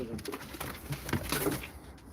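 Pigeons cooing softly nearby at a live pigeon auction, low repeated coos under background noise and a bit of quiet chatter.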